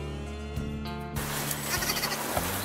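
Ewes on a farm bleat near and clearly in a couple of calls, followed by a burst of broadband rustling and handling noise.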